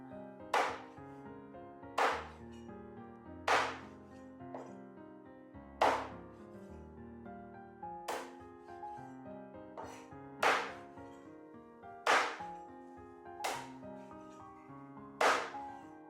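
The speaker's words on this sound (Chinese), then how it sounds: "再放置菜板上剁一剁，剁成均匀的块状就可以" Heavy cleaver chops strike a cutting board about a dozen times as chicken is cut into even pieces, at a steady, unhurried pace, each a sharp thud, with soft music playing underneath.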